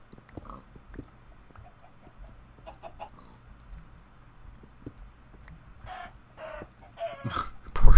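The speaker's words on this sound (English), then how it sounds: "Chicken." Minecraft chicken clucking in a hardcore survival game, a few soft scattered clucks over a low droning background, growing louder toward the end.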